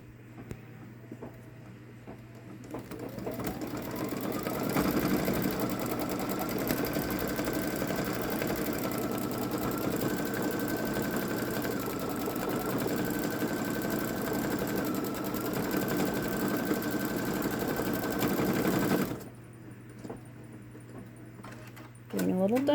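A Babylock Solaris Vision embroidery machine hums and chatters steadily for about sixteen seconds while stitching stars, with a faint rising whine at the start and an abrupt stop near the end.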